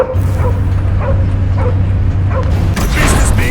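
Cosmo, the dog in Guardians of the Galaxy, lets out a series of evenly spaced barks and yips over a low hum, ending in a louder flurry of commotion.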